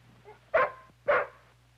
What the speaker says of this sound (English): The dog may be unfriendly.